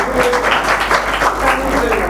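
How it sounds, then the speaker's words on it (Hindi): A religious assembly audience claps together in a dense, steady burst of applause, with a voice heard over the clapping. "बजा दो इनके स्वागत में एक बार तालियां"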